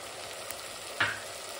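Ginger garlic paste frying in a pan for vegetable biryani, a steady close sizzle with a brief louder hiss burst about a second in as it hits the hot oil, no voices.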